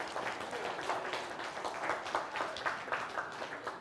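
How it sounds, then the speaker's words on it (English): A church congregation applauds mothers at a Mother's Day tribute, a moderate round of clapping with audible individual claps, fairly close and continuous for a few seconds. "Give them a round of applause today."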